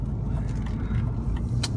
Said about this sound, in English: You can hear that real, that turbo kicks in